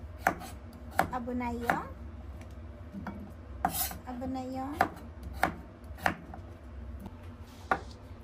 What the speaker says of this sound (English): Now cut the carrots into bite size like this.